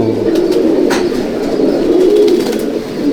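A Malwai pigeon in a loft gives a low, rolling coo that carries on for a few seconds over soft background cooing, near and clear, with no voices.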